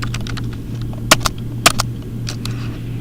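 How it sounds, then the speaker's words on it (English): Computer keyboard typing, a handful of close clicky keystrokes in short irregular bursts over a steady low electrical hum. "we'll go ahead and type in our identifying"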